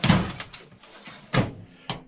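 Small parts drawers full of faucet washers being pulled open and pushed shut, giving a few sharp wooden thunks and knocks with short quiet gaps between them, close by in a workshop.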